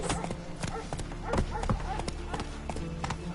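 Horse hooves gallop in The Witcher 3 video game, a fast rhythmic clip-clop close up over a continuous rumble of game ambience.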